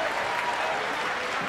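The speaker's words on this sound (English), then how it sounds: "About another round of applause for our elementary band, our middle school students" Concert audience applauding an elementary school band, a dense, even wash of clapping from a crowd that holds steady throughout the moment.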